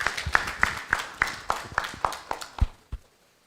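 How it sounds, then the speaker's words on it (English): At a symposium, a handful of people clap for a speaker. The separate, evenly spaced claps sound sparse rather than like a full crowd, slow slightly, and stop just before three seconds. "A round of applause for him"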